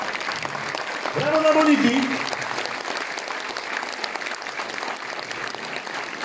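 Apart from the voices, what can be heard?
audience applauding at a concert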